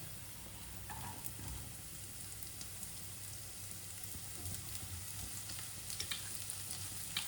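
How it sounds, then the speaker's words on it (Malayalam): Onions frying in hot oil with ginger, garlic and green chilli for a Kerala-style chicken dish, giving a steady, close sizzle throughout with occasional spatter pops and soft stirring scrapes, no voices. "വെളുത്തുള്ളി നന്നായിട്ട് മൂത്ത് കഴിയുമ്പോൾ നമുക്ക് സവാള ചേർത്ത് കൊടുക്കാം."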